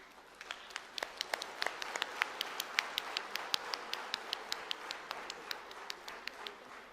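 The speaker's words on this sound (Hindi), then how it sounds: "आप खड़े होकर जोरदार ताली का ये करें।" Sparse, distinct handclaps at a live government event on technical training for rural tribal youth in Madhya Pradesh, a handful of hands clapping in a quick irregular rhythm, quiet and somewhat distant with no talking.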